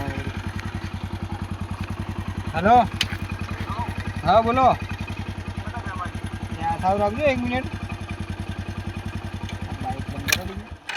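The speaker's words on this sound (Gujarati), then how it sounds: "બાઈક બંધ કરી દીધું" A motorcycle engine idling nearby with a steady, even thumping beat that runs throughout while someone talks on the phone over it.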